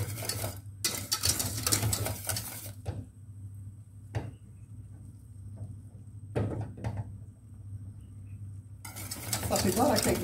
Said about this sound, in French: Je vais remuer jusque le fromage soit fondu, que ça mijote.